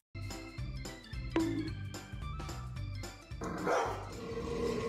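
A dog barks repeatedly in short bursts over a busy background of music-like tones, with a louder, noisier stretch toward the end.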